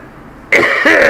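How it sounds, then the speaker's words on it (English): A man on a podcast lets out a harsh, raspy cough after a brief quiet pause, with one loud burst followed by a second rougher one, close and loud. "excuse my cough"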